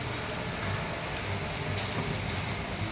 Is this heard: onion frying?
no